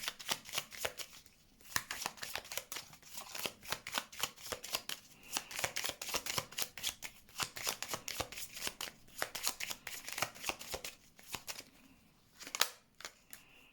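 Tarot cards are shuffled over and over, a quick irregular run of crisp papery riffles and taps, close and fairly quiet, with no voices.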